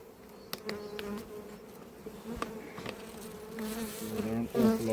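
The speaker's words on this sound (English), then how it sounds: "are an awful lot of bees in here." A dense colony of honey bees in an opened hive holding drones, a steady loud close buzz that swells toward the end, with a few handling knocks.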